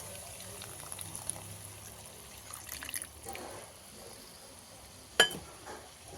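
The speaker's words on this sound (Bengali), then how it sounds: "এখানে আমি দিয়ে দেবো নারকেলের দুধ" Coconut milk is poured into a bubbling prawn malai curry, making a faint, soft trickle and gurgle, with a sharp clink of a utensil near the end.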